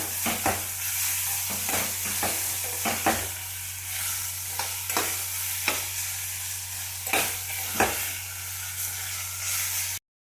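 Beetroot stir-fried in hot oil with curry leaves for beetroot palya, a steady sizzle broken by repeated sharp stirring scrapes of a spoon against the pan, with no voices over it.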